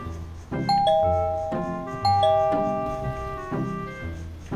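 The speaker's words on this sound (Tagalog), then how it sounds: "may doorbell pala" A doorbell chimes repeatedly, several ringing two-tone dings in succession, each tone sustaining and fading, close and clear with no talking.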